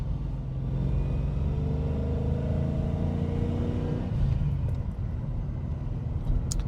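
Steady, loud drone of a 1978 Aston Martin V8 Vantage with Weber carburetors, heard from inside at cruising speed, engine note shifting slightly midway, with no voices.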